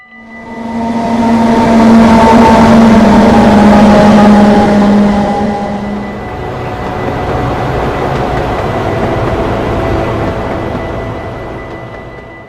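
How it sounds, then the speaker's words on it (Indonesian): A loud train rumbles past at a level crossing, a long horn blaring over the clatter before it fades into a lower, steady roar. "di depan ada perlintasan kereta api menutup dan terdengar kereta akan melintas"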